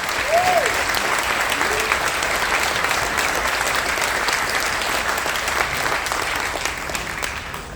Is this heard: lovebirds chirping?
no